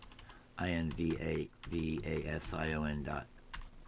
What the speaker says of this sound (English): I've been typing that all along